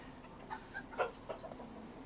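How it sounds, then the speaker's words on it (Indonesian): A few short, scattered clucks from a chicken in a Malaysian village neighborhood in the late afternoon, faint and somewhat distant against a quiet background hum. "Oh ada ayam tuh."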